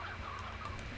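Hen in the video game Slime Rancher giving a soft, low clucking call, faint and brief, with no talking over it.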